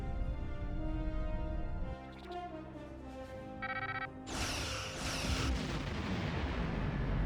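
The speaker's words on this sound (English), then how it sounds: "Target that ship, and fire all weapons!" Starship weapons fire in the space game Star Trek Online, a loud, continuous barrage of booming blasts followed by sharp bright zaps and energy bursts that layer over a rumbling background, with no voices.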